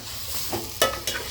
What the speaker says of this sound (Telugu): ఇలా బాగా కలిపిన తర్వాత ఆయిల్, పసుపు, ఉప్పు అంతా దీనికి పట్టేలాగా కలిపి